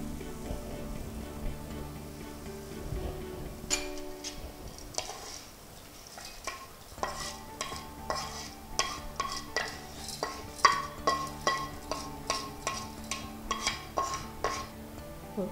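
Onions fry in a pan for sambar, stirred with a spoon that clinks and scrapes against the metal in irregular bursts over a soft background sizzle, close and fairly quiet.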